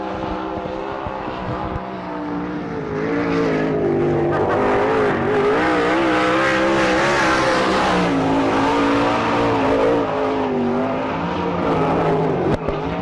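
A sprint car, number 22, runs a lap at an All Star Circuit of Champions Speedweek race at Mercer, Pennsylvania, its engine roaring loud and steady with rising and falling revs throughout, with no talk over it.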